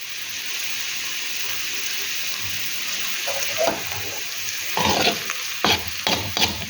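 A spoon stirs and scrapes vegetables, including squash, in a hot pan with a low sizzle underneath; the scraping gets louder and more frequent toward the end, with a few sharp bursts close by.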